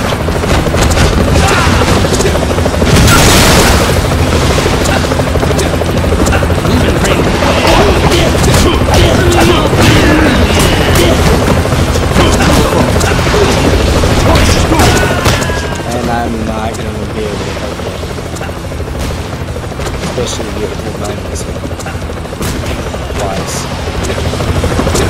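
Helicopter rotor drone and heavy explosion booms from the Assault Zone mission of the video game Double Dragon Neon, with loud continuous game action, blasts and gunfire, and someone talking over it.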